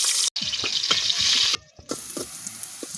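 Chopped onions dropped into a hot oiled pot for cooking bottle gourd, giving a loud bright hissing sizzle with scattered clatter and spoon knocks, briefly interrupted, then continuing at a lower level.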